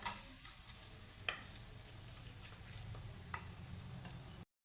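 Chopped green chilies frying in a little oil with curry leaves and ginger, a quiet steady sizzle with a few faint clicks and taps, no voices.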